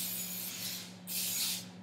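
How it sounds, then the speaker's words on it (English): Two hissing bursts of vegetable oil spray coat a mini donut tray, the first longer and the second after a brief pause, close and clear with no talking. "Spray it with vegetable oil like that so it doesn't get stick."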